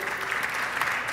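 Dense applause fills a legislative ordinary session of the Quintana Roo state congress. The clapping is steady and close, with no pause over its short length.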